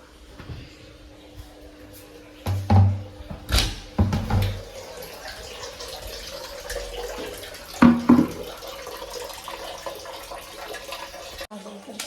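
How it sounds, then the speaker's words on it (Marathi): Clothes being hand-washed at home under running tap water during a power cut, a steady low splash with louder sloshing bursts and thumps, close by with faint voice-like sounds in the background. "कपडे वगैरे धुवून घेते"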